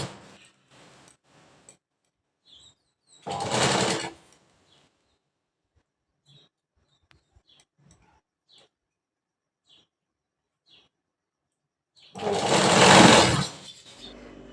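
A sewing machine stitches the pleats of a lehenga in two short loud bursts of running motor and needle, separated by a long near-silent stretch with faint clicks and fabric handling.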